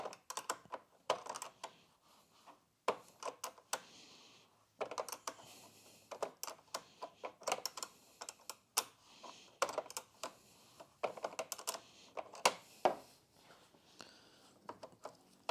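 Close, sharp metallic clicks and ratcheting taps, irregular and quiet with short pauses, as a 10mm nut on the negative terminal clamp of a Renault Scenic 3's AGM battery is slackened off.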